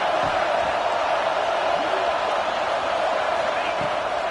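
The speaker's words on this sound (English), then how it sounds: "Man, this crowd really affecting the football game." A home crowd roars loudly at an American football game, a dense, steady wall of cheering and noise that holds at full strength throughout.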